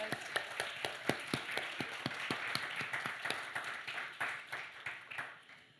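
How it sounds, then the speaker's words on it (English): Enthusiastic applause from a conference plenary audience, a dense patter of many hands clapping steadily and fairly loud, tapering off slightly toward the end. "So can we give them another round of applause?"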